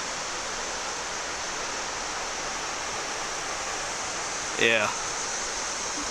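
A creek on state game lands along a nature trail flows as a steady, even rush of water noise throughout, with a brief spoken word near the end.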